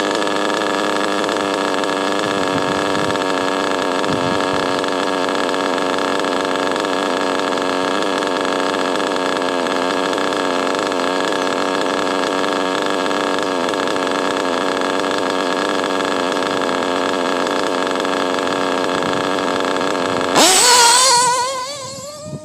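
A steady, sustained engine idles on a race-team bench run, running slightly rich while warming up, a constant loud drone with no revving until a brief sharp burst at the very end.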